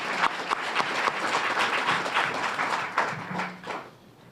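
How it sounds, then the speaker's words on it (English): A crowd applauds at a community briefing for a Mother's Day Walk for Peace: rapid overlapping claps from many people, fairly close and loud, thinning and fading out near the end. "I want to give you all a round of applause for what you"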